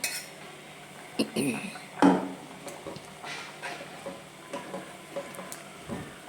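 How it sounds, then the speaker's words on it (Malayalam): Ground paste being stirred into cooked chickpea curry in a pot, with a few sharp clinks of a ladle against the pot and soft scraping between them, fairly close and intermittent. "നമുക്കിനിയും അരപ്പ് കടലയിലേക്ക് ചേർത്ത് കൊടുക്കാം. ചേർത്ത് കൊടുത്ത് നന്നായിട്ട് നമുക്കൊന്ന് മിക്സ് ചെയ്തെടുക്കണം."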